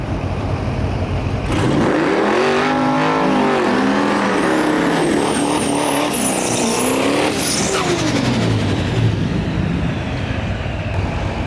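A Chevy Nova fitted with a Duramax diesel engine makes a drag racing pass at Rimbey, Alberta. Its loud engine roar rises and falls in pitch as the car sweeps past, then fades into a steady background din.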